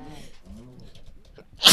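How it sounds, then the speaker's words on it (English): A single sharp sneeze at the end, following quiet murmuring while playing Minecraft. "this is gonna make me fall in the lava if I keep sneezing"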